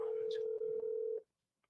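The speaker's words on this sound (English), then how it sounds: "So this number that I'm calling," A telephone call being placed on a live real-estate wholesaling call, with a steady dial or ringing tone that holds for about a second and cuts off, faint background chatter underneath.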